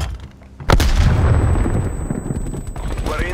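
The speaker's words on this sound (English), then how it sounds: "Throwing grenade." A grenade blast and gunfire in the Call of Duty: Black Ops Cold War Team Deathmatch mode, a loud sudden boom followed by a sustained roar of rumbling gunfire and debris, close and intense.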